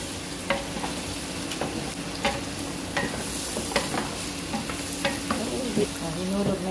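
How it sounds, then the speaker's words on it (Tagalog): Chicken frying and being stirred in a pan for Filipino-style salona, a steady sizzle with intermittent scraping and stirring clatter throughout, close and moderately loud with no talking. "Piniprito muna tapos ganyan."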